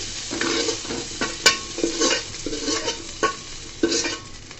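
Shrimp frying in hot oil in a pan give a steady close sizzle, broken by repeated scraping stirs as the spatula lifts them out.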